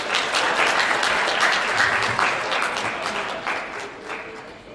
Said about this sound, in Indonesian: Tepuk tangan kek.